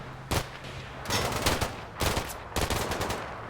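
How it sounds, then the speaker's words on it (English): A Mark 19 grenade launcher firing in the military video game Combat Mission Shock Force 2: four loud, close bursts of rapid, thudding automatic fire separated by short pauses. "Nothing a Mark 19 grenade launcher can't deal with."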